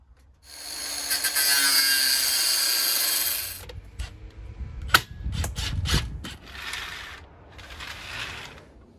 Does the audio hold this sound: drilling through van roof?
yes